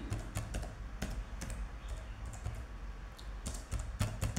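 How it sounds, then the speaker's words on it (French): Typing on a computer keyboard while working in Microsoft Word 2016, a steady run of close, crisp key clicks at an uneven pace, with a few louder strikes standing out near the end; no speech. "Donc je fais entrer, pourquoi? Parce que je veux retourner à la ligne."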